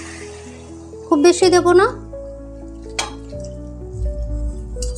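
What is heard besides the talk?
hot water poured into egg and potato curry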